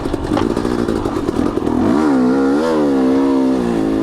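A KTM 250 XC dirt bike rides along mountain single track in second gear, its engine a loud, steady drone that rises and falls in pitch as it revs, with clatter early on.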